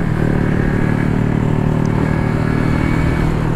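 A Yamaha R15 V3 motorcycle engine drones loudly and steadily at close range while riding, with wind rush and a constant mechanical hum throughout.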